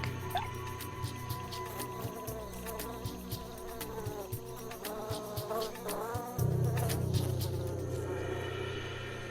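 An orchid bee buzzes steadily near the listener, its wings humming with shifting pitch among other insect and ambient sounds.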